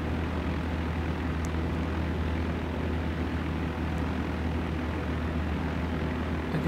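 A propeller plane's engine drones steadily in the Flight Sim World game while the aircraft flies over the Grand Canyon, a loud, continuous, unbroken hum with no voices.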